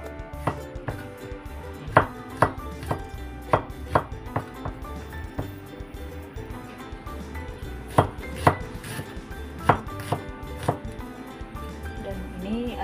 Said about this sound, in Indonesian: Tiga siung bawang merah, dua siung bawang putih, diiris seperti biasa.